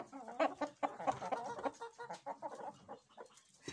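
A hen calling with a quick, uneven stream of close clucks, rising and falling in bursts for a few seconds, heard alone without any talk.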